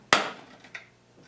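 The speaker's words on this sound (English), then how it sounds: "now I'm actually going to chop in from the end and pop out all that excess in one chunk" A sharp chisel strike chops into the end of an inlaid dovetail, splitting out the excess wood in one chunk: one loud crisp crack followed by a small secondary knock.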